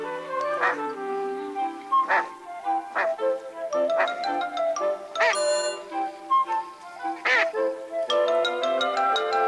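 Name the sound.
ducks quacking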